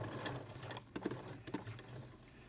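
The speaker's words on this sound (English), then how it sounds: "Foot down, stitch over my elastic." A sewing machine stitches over elastic on a fabric face mask, its motor whirring in short bursts with the needle tapping rapidly and close, with pauses between runs and no talk.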